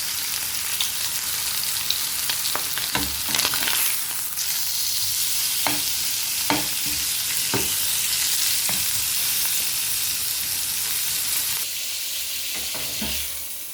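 Half-cooked chicken sizzling in a hot pan, a loud continuous frying hiss broken by repeated sharp scrapes and clacks as it is stirred and turned.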